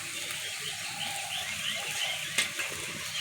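Spices frying with potatoes in a pan for a cabbage snack, a soft continuous sizzle at low volume with a brief tap of utensil on metal partway through.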